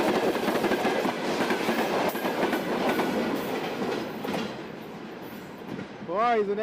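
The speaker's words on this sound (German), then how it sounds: "die sind echt lang, die Züge" A long freight train rolls past on a railway in Siberia, a loud, close, continuous rumble with wheel clatter that eases slightly before swelling again at the end, where a few rising whistle-like tones sound.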